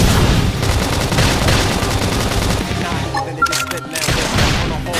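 Fiery combat from Xenoblade Chronicles X as a flame grenade attack lands: a dense, loud barrage of bursting booms and crackling blasts throughout, over game music, with a brief quieter gap near the end before the explosions resume.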